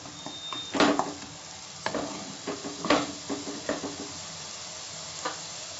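Onions sautéing over a medium flame for a Mughlai shahi paneer, a soft steady sizzle broken by several distinct scraping stirs of a spoon against the pan, close and moderately quiet with no talking.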